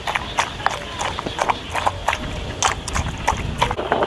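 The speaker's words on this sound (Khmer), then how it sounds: "ខ្ញុំយកសាច់គោមកបុកញុំជាមួយនឹងគ្រឿងគ្រើហ្នឹង" Beef with spices is pounded in a mortar for a yardlong bean and beef salad, giving a steady series of close, hollow knocks at a quick, slightly uneven rhythm.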